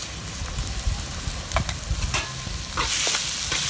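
Ginger garlic paste sautés in a pan over softened tomatoes for chicken curry, a steady close sizzle broken by scraping stir strokes, swelling louder near the end, with no talking.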